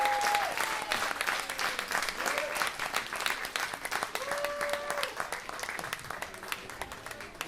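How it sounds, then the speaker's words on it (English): Audience applause and cheering fills a live music show at a record store after a singer-songwriter's set, dense and sustained with scattered whistles, fading slightly toward the end. "I'm going to start talking over the end of that applause"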